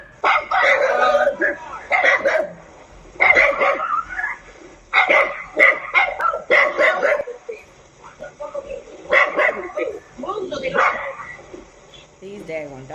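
Several dogs bark in bursts throughout, fairly close, mixed with shouting and talking between the barks.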